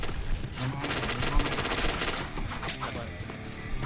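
Gunfire in the shooter game Point Blank: a continuous dense clatter of rapid overlapping shots with game music and effects throughout, loud and busy.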